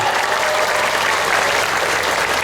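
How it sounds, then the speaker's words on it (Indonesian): Steady, dense applause from a large congregation at a haul religious gathering, honoring the organizing committee; continuous and loud throughout with a crowd wash and no breaks. "tepuk tangan dulu untuk panitia"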